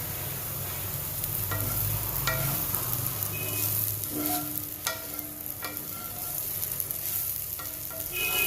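Tofu, broccoli and mushrooms sautéing in a hot pan: a continuous close sizzle with occasional stirring scrapes and clinks, no talking.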